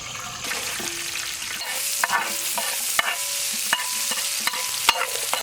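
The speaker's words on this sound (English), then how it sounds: "Oil is very hot. Now we add garlic. Immediately we are going to add French beans." Garlic and French beans hit very hot oil in a pan and fry with a steady, fairly loud sizzle, broken by occasional sharp scrapes and clicks from stirring.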